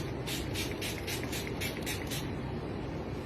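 A quick run of about eight short hissing pumps of makeup setting spray in close succession, close to the mic, followed by a quiet background hiss.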